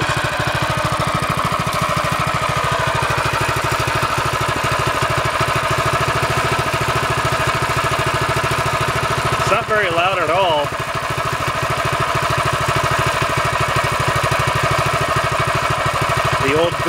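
A Predator 6.5hp 212cc small engine runs loud and steady after starting, a continuous close chugging drone, with a person talking over it partway through.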